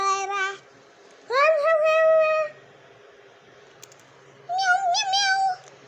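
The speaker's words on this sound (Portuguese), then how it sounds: "Miau, miau, miau." A cat meows three times with clear pauses between calls, each meow fairly loud and close against a quiet background.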